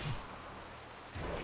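Steady, moderate rain falls in World of Warcraft Classic as a continuous wash of fine patter, with soft low rumbles near the start and end.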